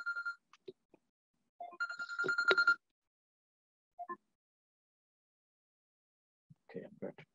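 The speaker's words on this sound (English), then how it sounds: "I think I have a phone call coming in." A mobile phone ringtone goes off in the middle of a computing lecture. It plays as repeated bright tonal bursts near the start and middle, separated by quiet gaps, with the lecturer's voice speaking briefly around the rings.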